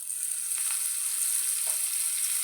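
Butter melting in a hot pan with whole cumin, cardamom, clove and cinnamon, ready for frying paneer, giving a steady bright sizzling hiss with faint crackles and no talk.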